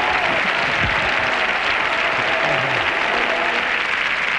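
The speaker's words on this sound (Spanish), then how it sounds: "merecidísimos aplausos" A gala audience breaks into sustained applause, a thick, continuous roar of many clapping hands, loud and close, with faint crowd murmur and a few brief voices underneath.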